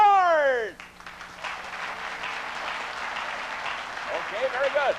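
Studio audience at a live political comedy show applauding: a sustained wash of clapping from a crowd follows a brief spoken phrase and swells toward the end, with a voice talking over it.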